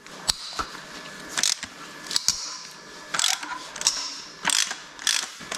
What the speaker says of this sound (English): one nut I need to open with the wrench